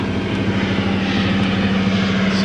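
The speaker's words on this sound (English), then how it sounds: "There's a seaplane coming through here." A seaplane flying over a sailing area of small private and charter flights, its propeller engine droning steadily and loudly overhead for the whole stretch, with no voices.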